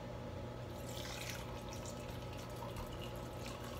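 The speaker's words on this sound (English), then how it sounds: "it says pour the milk over the hot chocolate bomb and watch it dissolve" Warm milk is poured over a hot chocolate bomb in a coffee mug, making a steady, soft liquid trickle and splash that runs continuously and quietly.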